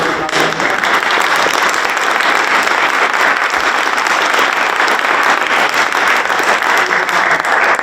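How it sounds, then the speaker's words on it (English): An audience at a historic society concert and lecture applauds a musician with loud, sustained clapping that runs steadily for several seconds without letting up. "I want everyone to do a round of applause for Raul again."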